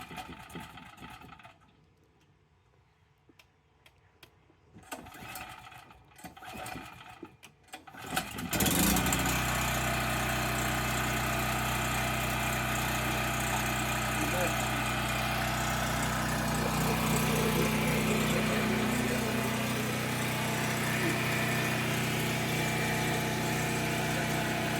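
Small engine on a farm after Hurricane Helene, with a few pulls and sputters before it catches, then a loud, steady droning run close by that continues to the end.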